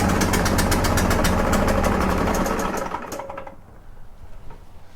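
A Stihl BR800X backpack blower engine sputters in a rapid, uneven pulsing chug for about three seconds without revving up, then dies away to low background rumble, close and loud.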